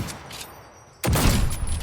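Gunfire in the video game Fallout New Vegas: a quiet lead-in, then a sudden loud, dense burst of rapid shots that continues to the end.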